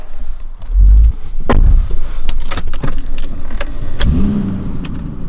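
Close-up sounds of a BMW E39 540: engine rumble, a few clunks and rattles, and the hum of the car driving out, with no talking.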